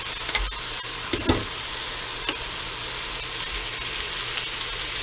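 Blanched green vegetables sizzle and hiss as they are stir fried in a pan, with a few sharp clacks and scrapes of stirring over a constant frying crackle, close and without talk.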